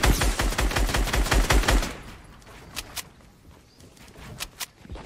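Rapid bursts of gunfire in the Fortnite video game, a dense fast string of loud shots for the first two seconds, then scattered fainter single shots further off.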